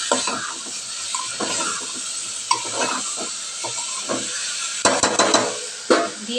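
Ginger, garlic and onion paste fries in a pan of chicken curry with coriander, giving a close, steady steamy hiss. Scraping stir strokes and clicks break through it, with a cluster near the end.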